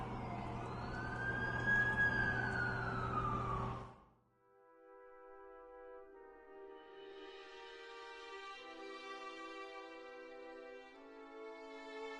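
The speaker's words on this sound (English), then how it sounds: "That's the ambulance I called." An ambulance siren wails loudly and sweeps up and down in The Amazing Spider-Man 2 game for about four seconds, then cuts off abruptly. Steady tonal music follows.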